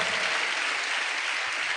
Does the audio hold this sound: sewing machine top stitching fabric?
no